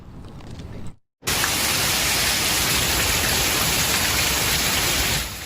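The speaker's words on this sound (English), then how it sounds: "take a look at this video of the downpour in Scottsdale" Heavy monsoon rain pours down in Scottsdale, a dense, loud, unbroken roar of rainfall that cuts out for a moment near the start and then resumes at full strength to the end.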